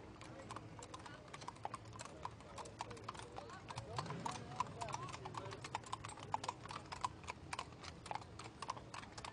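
Horses walk in a mountain fair parade, their hooves clip-clopping in a steady rapid patter on pavement over an ambient crowd background.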